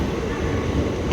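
A Class 376 electric multiple unit rumbles through London Victoria station, a loud, close, steady roar of wheels and motors that fills the platform for the whole moment.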